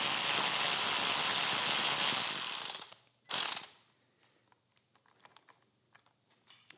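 A ratchet tightens the handlebar clamp bolts on a 2014-2024 Harley-Davidson Road King. It gives a steady, close burst of fast clicking and then a short second burst, followed by faint scattered ticks.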